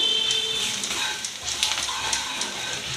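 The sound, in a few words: turmeric and onion frying in oil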